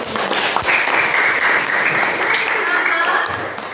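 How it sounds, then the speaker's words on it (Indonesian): A class applauds during a lesson on artificial intelligence basics, dense clapping that fills the room, with a voice talking over it. "Tepuk tangan dulu."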